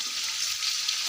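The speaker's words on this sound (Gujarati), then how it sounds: "હવે આમાં ટામેટાં નાખીશું." Tomatoes tipped into a hot pan of spiced oil with turmeric and fenugreek for an Indian curry, giving a steady, close hiss of frying that holds evenly throughout with no talk over it.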